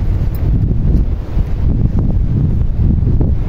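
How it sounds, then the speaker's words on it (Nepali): Strong wind buffets the microphone outdoors at Lumbini, a loud, continuous rumbling roar with gusty swells and no voices. "कस्तो राम्रो हावा पनि चलिरहेको क्या अहिले त"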